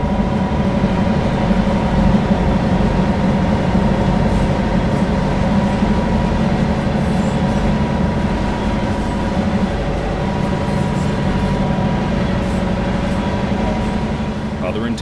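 A train driven in the simulator game Train Sim World 2 rumbles steadily with a constant low engine drone and faint rail noise throughout, with a voice talking over it.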